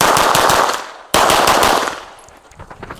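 Rapid gunfire during shooting practice, two loud bursts of quick successive shots cut by a short gap, the second burst trailing into echoing decay and a few scattered softer reports.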